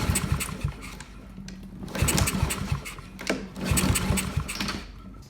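A Honda-powered Husqvarna lawn mower engine cranks and sputters, trying to catch in uneven rough bursts of chugging at close range, rising and falling over a few seconds.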